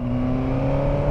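A Suzuki GSX-R 1000 motorcycle engine, rated at 202 hp, holds a steady, loud, near drone with strong low harmonics and no talk over it.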